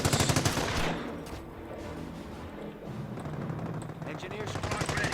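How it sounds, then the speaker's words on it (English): Small arms fire rattles in Company of Heroes, rapid machine-gun bursts loud at the start and again near the end, with a steady battle rumble and a voice speaking underneath. "Taking small arms fire here!"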